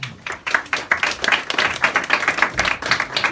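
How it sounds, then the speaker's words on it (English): A comedy-club audience at a live show in Budapest claps for the host, a lively burst of rhythmic applause that carries on steadily from start to finish. "Big round of applause for your host, Daniel."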